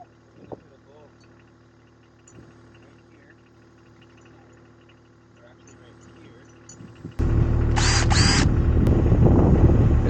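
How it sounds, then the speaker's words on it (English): A small cordless drill runs on a deer fence at a flower farm, starting abruptly partway through after quiet outdoor ambience with insects, then whirring loudly and steadily to the end. "this drill is way too small for this thing, but we'll see if it works."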